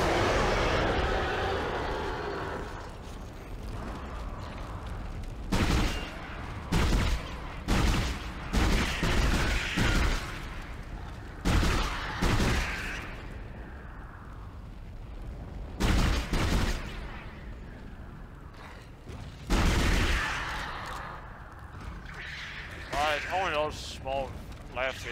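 Gunfire in Dead Space on hard mode on PC: repeated sharp shots in short bursts, spaced through the clip over game ambience, with someone talking between them.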